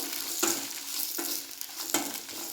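Dry red chillies fry in a little oil in a pan, a soft close sizzle broken by a few sharp scrapes or crackles, about three distinct strikes over a brief moment.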